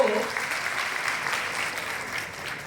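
A roomful of people at an awareness meeting claps together, a loud burst that thins into a steady patter of hands lasting a few seconds, a voice briefly audible at the start.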